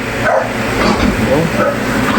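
A dog barks and yips excitedly in short bursts, with a person talking over the commotion.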